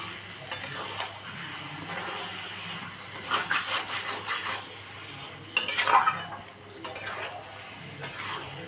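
Onions, masala and tomato are sautéed in a pan over a high flame. A spoon scrapes and clinks against the metal close by in uneven bursts over a soft background hiss, with no voices.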